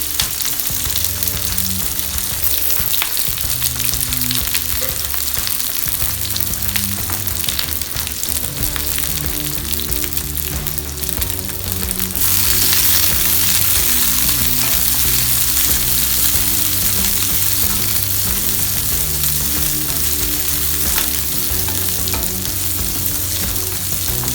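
Onions and green chillies frying in oil in a pan for vendakkai sambar, a continuous close sizzle with intermittent stirring scrapes, growing louder and brighter about halfway through and staying steady with no speech.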